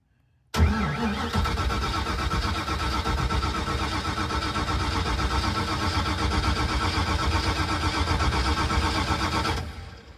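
A car engine fitted with an Edelbrock 1405 carburetor cranks continuously for about nine seconds, the starter churning in a loud, rhythmic pulse without catching, then abruptly stops.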